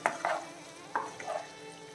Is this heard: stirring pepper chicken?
yes